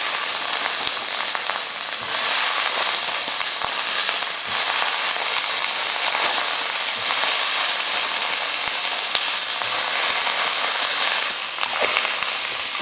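Green beans added to onions in a hot pan sizzle and crackle steadily, a dense, loud frying hiss that runs unbroken from start to finish with no voices over it.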